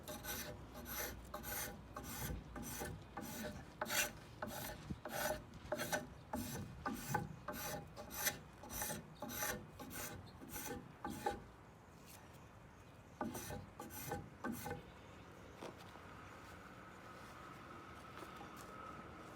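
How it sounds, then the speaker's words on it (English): A hand tool shaving wood for a Viking ship steering oar, rapid rhythmic rasping strokes in steady bursts, a short pause, then more strokes, close and fairly faint. "So you can see it takes very small shavings off the wood and leaves it quite smooth."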